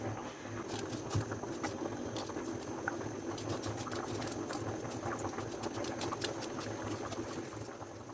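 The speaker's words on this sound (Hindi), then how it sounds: "अभी मैं इसमें ऑयल डालूँगी और कर लूँगी थोड़े से प्याज" Onions cooking in hot oil in a home kitchen, a continuous crackling, bubbling sizzle with fine popping spatters, steady and close throughout.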